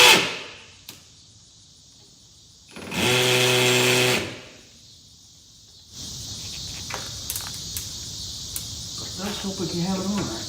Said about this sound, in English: I'm going to go with a little bit bigger drill bit,